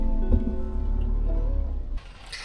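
Rain falls on a coastal campsite in the morning, a soft steady patter beneath a low rumble that cuts off abruptly near the end, leaving a thinner hiss.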